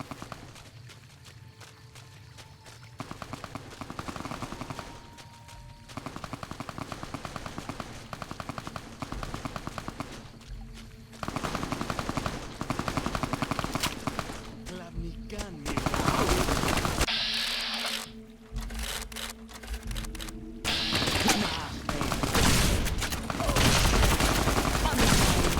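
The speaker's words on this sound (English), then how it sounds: "I hear some shooting." Gunfire in the video game Fallout: New Vegas, with bursts of rapid shots and heavy blasts recurring across the clip, growing louder and denser toward the end, alongside footstep-like sounds and game ambience.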